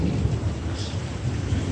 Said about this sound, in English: I love this storm. I just love every storm.